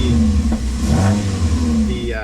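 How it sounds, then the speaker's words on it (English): A cold Mazda 3 engine revs briefly under light throttle, its exhaust fitted with a mid pipe and second cat delete giving a steady low drone with a rising note, close by while someone talks over it. "Even if I give it a bit of gas, this is still cold engine"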